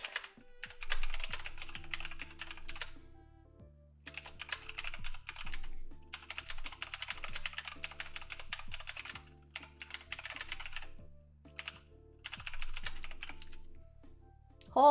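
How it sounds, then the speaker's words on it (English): Fast typing on a computer keyboard in several bursts separated by short pauses, close and clear over soft jazz music. "while I type up a paragraph"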